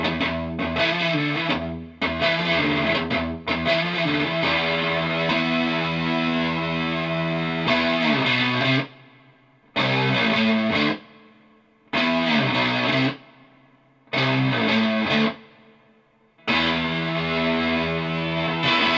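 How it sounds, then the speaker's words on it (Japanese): Distorted electric guitar run through a Ghost Note Audio Swirls chorus and detune pedal, played alone in loud sustained chords and riffs with short gaps of silence between phrases. "歪んだ状態にデチューンサウンドを組み合わせることによって、その輪郭もちょっとはっきりして、音もね少し散りにくい感じがするんですよね。"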